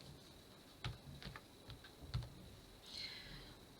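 Faint, sparse key clicks from a computer keyboard as Python code for opening a file is typed, with scattered single taps and short bursts and no talking.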